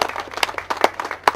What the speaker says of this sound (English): can I please have a round of applause for all the participants in the car chase show this year?